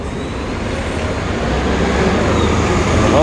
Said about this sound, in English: Wellesley bus rolling by.